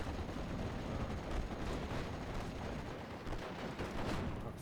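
A Pak 40 anti-tank gun and artillery fire in a Steel Division Normandy battle, a dense continuous rumble of distant booms and gunfire with no clear pauses.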